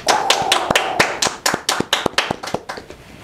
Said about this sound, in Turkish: Alkışlıyoruz arkadaşlar.